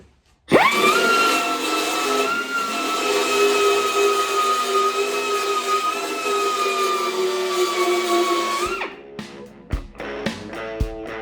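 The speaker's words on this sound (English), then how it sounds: "using an aggressive 3M, I think a 60 grit belt on it, and it makes fast work of digging through big welds" A 3M 60 grit belt sander grinds through welds on a 1966 VW Convertible, a loud, steady high-pitched whine with abrasive rasp running about eight seconds before spinning down, followed by a few sharp clanks.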